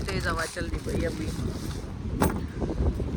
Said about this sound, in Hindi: हवा चल रही भाई अभी